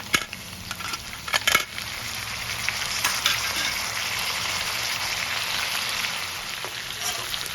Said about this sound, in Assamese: পিঁয়াজ নহৰু অলপ সময় ভজাৰ পাছত এতিয়া দিম কাটি থোৱা বিলাহীখিনি